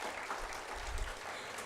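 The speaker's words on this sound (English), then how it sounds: "Let's give her another round of applause." Audience applause at a graduation and awards ceremony for the class of 2022, honoring a graduate speaker; steady, moderately distant clapping from a crowd throughout, without speech.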